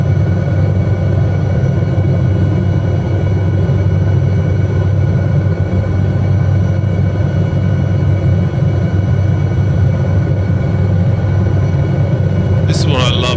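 An SA315B Lama helicopter in Microsoft Flight Simulator drones steadily with a constant low rotor-and-turbine hum, loud and unbroken throughout, with a short burst of other noise near the end.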